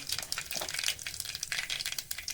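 Mustard seeds and cumin sizzle in hot oil in a pan, a close, crackling spatter of fast popping bursts, with no talking.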